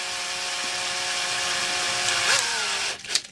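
A small power drill whines steadily as it bores into a Hornby TTA tanker model to fit Hunts couplings, with its pitch shifting briefly under load before it stops and a short scrape follows.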